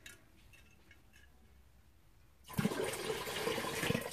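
Water pours into a pot while preparing an herbal tea for flu and cough, starting abruptly after a quiet stretch as a steady, close, splashing rush that continues to the end.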